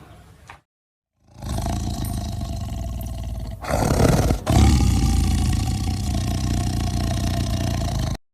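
Close, powerful roars from African lions, with a short sound at the start followed by two long, rumbling roars that fill most of the recording, and no voices.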